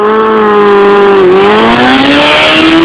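A Suzuki RF 900R motorcycle engine revs hard during a race, a loud, steady high-pitched howl that climbs in pitch as it runs through the gears, close and continuous.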